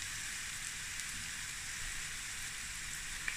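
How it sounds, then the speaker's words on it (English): Onions frying in a pan for a tuna and egg noodle stir-fry, a steady, close hissing sizzle that holds evenly throughout with no talk over it. "You just want the onions to cook a bit more than everything else."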